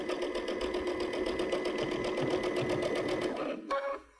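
A Baby Lock sewing machine with a digital dual feed stitches in the ditch of a quilt, its needle running in a fast, even mechanical rattle for several seconds before stopping abruptly.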